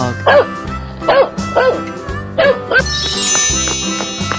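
A dog in a 3D animal sliding game barks in a run of about five short, evenly spaced yaps over bouncy background music.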